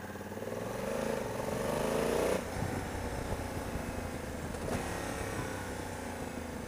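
A 2020 Honda Africa Twin 1100 Adventure motorcycle downshifting while riding, its engine revving up then dropping with short throttle blips at each gear change, a steady close engine drone with wind noise.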